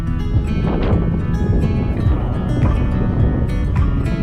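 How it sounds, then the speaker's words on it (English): Heavy winter wind on the Mam Tor hill fort summit, a constant loud low rumble of gusts battering the microphone, rising and falling in surges without any voices. "Still really windy."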